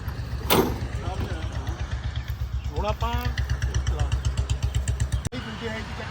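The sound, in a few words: modified tractor engine running during testing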